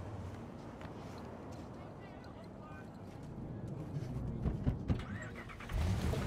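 Car driving through a city street in the video game Cyberpunk 2077, a low steady engine rumble with road noise that swells slightly toward the end, with voices present.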